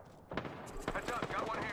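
Video game gunfire rattles in a short burst of repeated shots, mixed with game effects and a voice in the background.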